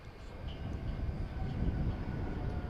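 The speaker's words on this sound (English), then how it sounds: "It's an Airbus A320." Volaris Airbus A320 airliner at DFW Airport, a low steady engine rumble building slightly, distant and continuous with no other distinct sounds.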